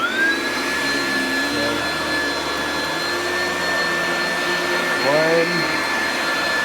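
A vacuum cleaner runs continuously on wall-to-wall carpet, a loud steady whine with a high motor tone, briefly shifting pitch as it is pushed back and forth, while a person counts aloud over it.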